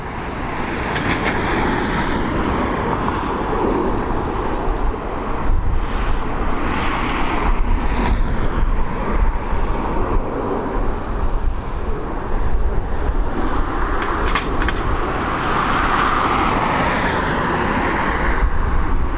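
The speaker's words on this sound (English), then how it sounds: "she is on departure, heading over to JFK, this A330" An Airbus A330 departing Dublin Airport for JFK roars steadily throughout, a broad, loud jet-engine rumble with wind buffeting the microphone, swelling slightly as the airliner climbs away.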